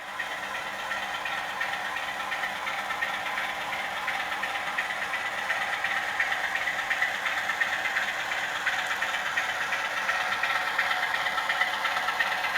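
A Bachmann Branchline Class 47 model locomotive, 47001, runs through insulfrog points into a siding with a steady, close motor whine and buzz and fine rhythmic wheel rattle, even in level throughout.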